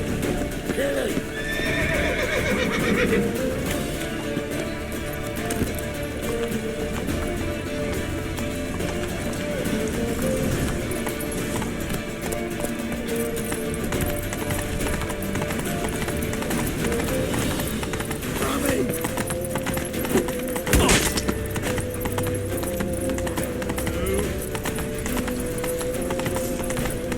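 Horse hooves clip-clopping at a gallop in The Witcher 3, with whinnies and neighs over a steady, busy game mix of music and effects while voices shout under it.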